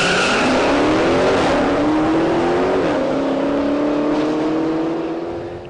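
A Dodge Challenger Hellcat's supercharged V8, an engine derived from a 6.4-liter, roars loudly on a race track, its pitch climbing steadily through the gears with faint tire squeal before fading slightly at the end.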